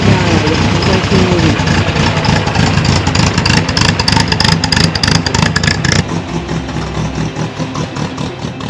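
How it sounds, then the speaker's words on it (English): A 1958 MGA Coupe barn find runs with a steady, rough engine note that stays loud throughout and softens slightly near the end, with people audible in the background. "So I got the engine to run"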